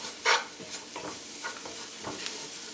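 Spices bloom in hot oil in a pan for a lentil curry, a sharp sizzling burst at first, then softer crackling and scraping as a spoon stirs them in short irregular strokes.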